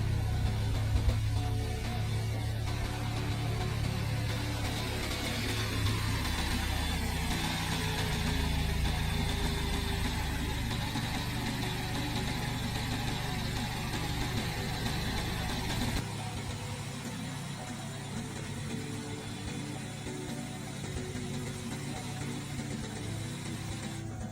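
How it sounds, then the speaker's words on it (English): A BMW 320Li with the B48 engine idles at a steady, raised 1100 RPM, a continuous close mechanical hum with a faint tick that holds evenly throughout and softens slightly toward the end. "start the car. The engine will lock at a steady 1100 RPM to purge air for 3 to 5 minutes"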